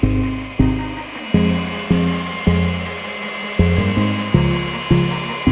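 A polishing machine works a very mild cutting polish over wet-sanded Ford car paint, its motor droning loud and close in repeated passes that each start with a surge and then ease off.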